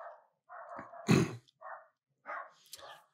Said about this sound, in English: The dogs are going off outside right now, so somebody just showed up.